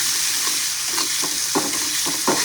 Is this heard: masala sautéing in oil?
yes